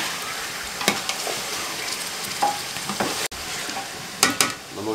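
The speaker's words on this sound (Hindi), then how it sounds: "चिकन शामिल करने के बाद हम 10 मिनट तकरीबन मीडियम फ्लेम पे इसको फ्राई करेंगे" Chicken for a village-style Hunza white karahi fries over a medium flame, producing a steady close sizzle under scattered scraping stirs and clanks from the pan.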